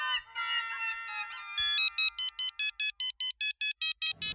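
Incoming-call ringtone on a mobile phone in a Hindi TV comedy scene, a melodic tune that turns into a rapid series of about a dozen evenly spaced electronic beeps, loud and close, with no talking over it.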